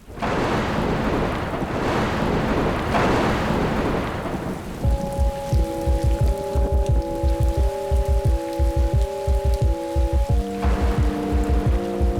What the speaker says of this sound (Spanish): Llueve en el campo y en la ciudad.